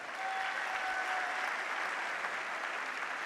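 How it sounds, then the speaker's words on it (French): At an anniversary awards ceremony, a large audience keeps up warm, even applause, a steady wash of many hands clapping throughout with no voices over it. "Vous vous réjouissez pour Mirjina, que vous applaudissez avec cœur."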